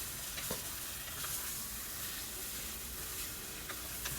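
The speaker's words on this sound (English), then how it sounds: "Then I'm going to add in the marinated meat and going to mix well." Marinated mutton and onions fry together in a pan for an Anglo-Indian mutton curry, a steady close sizzle with faint scraping of stirring running throughout, no voices.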